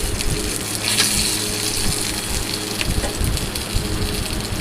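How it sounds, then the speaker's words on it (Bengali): Flat beans (sheem) sizzle in hot oil in a pan, a dense, steady crackling hiss that stays loud and close throughout with no voices. "শিমগুলো দেখো ভালো করে ভাজা হয়ে গেছে।"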